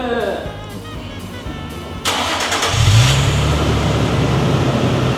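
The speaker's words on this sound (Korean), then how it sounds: "혹시 시동 한번 걸어봐도 괜찮아요?" A Nissan Skyline V35 with a naturally aspirated V6 and Fujitsubo exhaust starts up: a brief cranking whir, then the engine catches and settles into a low, steady idle rumble close by, with a voice speaking briefly beforehand.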